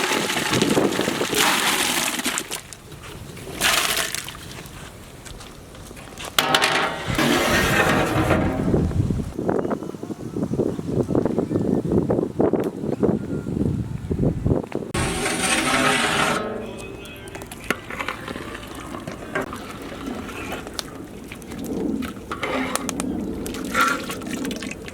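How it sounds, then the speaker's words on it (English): Potatoes added to a pot of boiling water on a home kitchen stove, with bubbling, sloshing and splashing that swells and fades, and bursts of louder stirring or pouring along the way, with no voices. "As you can see, water is boiling."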